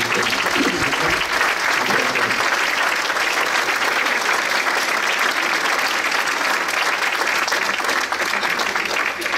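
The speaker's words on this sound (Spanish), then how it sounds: "Le podemos dar palmas de agradecimiento." A church congregation gives a long round of thankful applause, dense continuous clapping that stays loud and even throughout, close and filling the room with no talking over it.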